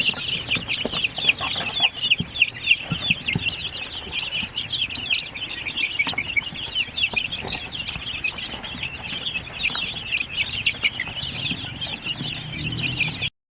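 A flock of native chickens clucks constantly and close by, with busy overlapping calls and occasional wing flapping running throughout.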